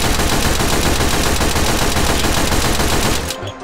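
An SMG with a drum magazine fires in the H3VR video game, one dense, loud, continuous stream of automatic fire that stops abruptly near the end.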